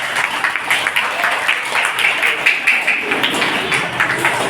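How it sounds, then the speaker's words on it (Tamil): Audience at a Tamil debate event applauding themselves, a dense sustained wash of clapping from many hands throughout, fairly loud and close. "அதுக்காக உங்களுக்கு நீங்களே ஒரு கைத்தட்டு நீங்க கொடுத்துக்க போறீங்க."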